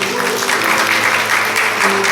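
A church congregation at a Korean Presbyterian Parents' Sunday service breaks into warm, continuous applause that fills the hall evenly from start to end, with a faint low hum beneath.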